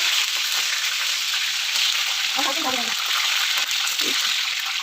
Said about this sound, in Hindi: तेज़ आंच पे जब हम इनको फ्राई कर लेंगे